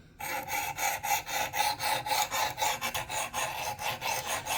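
A PL-XE knife is drawn across a whetstone in quick, regular strokes, each giving a close, crisp scraping rasp in a steady back-and-forth rhythm, with no voices.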